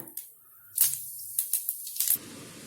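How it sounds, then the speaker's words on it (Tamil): Mustard seeds and urad dal splutter in hot oil in a kitchen pan, with loud sharp pops and crackles bursting in quick clusters, then a soft steady sizzle. "கடுகு உளுந்தம்பருப்பு பொரிஞ்சிருச்சு."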